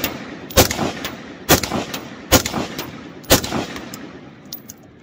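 Four loud, close AR rifle shots fired from the shoulder with a recoil reduction setup, spaced roughly a second apart, each a sharp crack followed by a short echoing decay outdoors.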